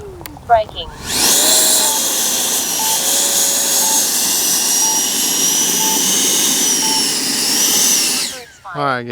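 A Freewing 90mm T-45 radio-controlled model jet's engine spools up to a loud, steady turbine whine with a high-pitched tone, holds for several seconds, then cuts off abruptly; a voice speaks briefly at each end.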